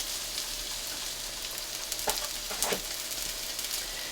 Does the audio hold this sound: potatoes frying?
yes